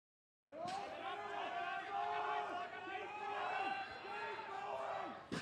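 A crowd cheers and applauds at a women's 69-76kg Commonwealth classic powerlifting competition, a sustained swell of voices with whoops rising after a silent start and holding steady for several seconds, with an announcer's voice over it.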